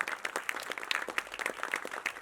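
Applause fills a quiet indoor setting at a film event, as a producer and others clap loudly in a steady patter of overlapping claps.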